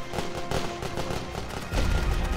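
Rolling artillery barrage in a WWI Western Front strategy game: a dense, continuous rumble of distant gunfire and booming shell bursts, swelling louder and heavier toward the end.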